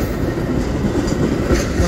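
A train passes through a station without stopping, a loud, steady rumble of rolling wheels that holds throughout with no voices.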